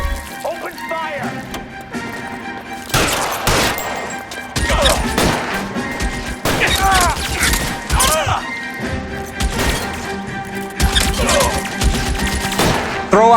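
Gunfire in an L.A. Noire video game shootout, rapid loud bursts and cracking impacts with crashes and thuds, continuing throughout with voices talking over it.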